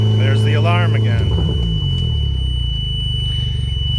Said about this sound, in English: There's the alarm again.